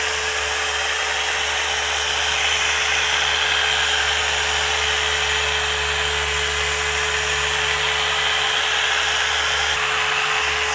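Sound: machine polishing lacquer off a hi-fi speaker

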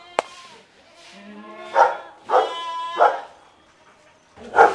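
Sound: dog barking

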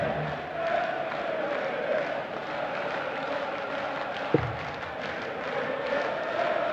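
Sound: darts crowd chanting the player's name

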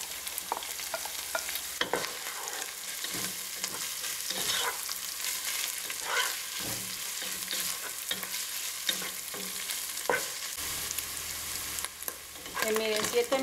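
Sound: sausage pieces frying with onion in a pan

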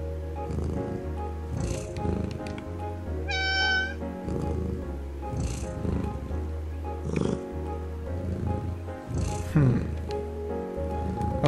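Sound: cat meowing in the video game Calico

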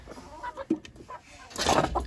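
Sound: chickens clucking

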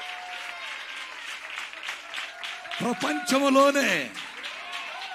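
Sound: applause for the preacher

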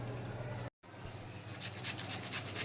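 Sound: grating carrot and potato by hand

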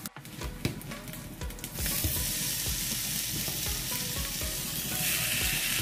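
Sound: marinated fish pieces frying in a pan

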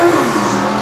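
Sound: drag racing car revving while warming up its tyres

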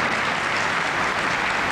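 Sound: audience applause at a poetry reading

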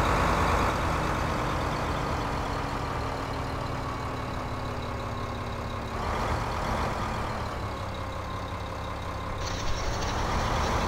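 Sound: car driving past in Farming Simulator 2015 video game

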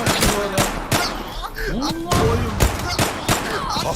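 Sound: gunfire in a video game

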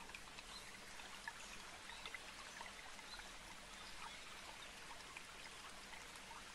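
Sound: nearby waterfall

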